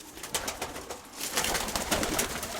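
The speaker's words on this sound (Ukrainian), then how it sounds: "Голуби вдома" Soft, repeated pigeon coos blend into a rustling backdrop, growing a little busier and louder partway through, with no voices.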